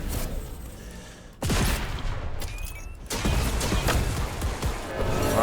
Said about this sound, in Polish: O, ktoś do mnie strzela.